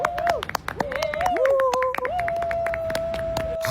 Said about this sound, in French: ils vont jusqu'à applaudir leur propre gênance